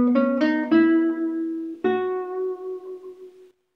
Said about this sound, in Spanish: suena así, pero si meto el vibrato,